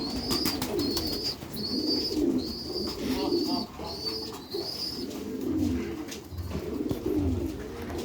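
Pigeons coo close by in repeated soft throaty phrases, joined by faint high chirps and light scuffling, with no talk over them.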